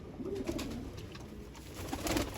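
Pigeons in a loft in Jammu, including the Rampur crested breed, give soft, low cooing calls that are faint and a little distant over a quiet background hiss.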